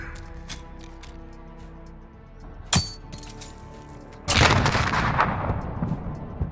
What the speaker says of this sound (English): I'm going to toss the nade perfectly in line with that, and it'll hit.